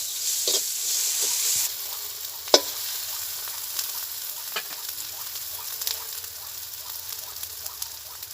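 Chili, turmeric and spices sizzle in hot oil in a pan while being stirred for a steamed egg dish, with a steady crackling hiss and occasional sharp scrapes and clinks of the spoon.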